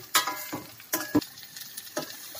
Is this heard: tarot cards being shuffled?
no